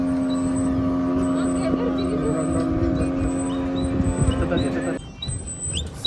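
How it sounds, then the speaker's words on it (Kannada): Speedboat motor on a lake, a steady droning engine tone with a changing pitch, heard from nearby under voices talking, cutting off sharply near the end. "speed boat"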